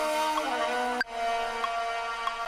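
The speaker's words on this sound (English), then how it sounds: "So what the tail generator is, it's just a long tail reverb" A sample in Ableton run through a long-tail reverb and a ping-pong delay. A faint, sustained wash cuts off sharply, then quiet echo blips repeat as the tail fades.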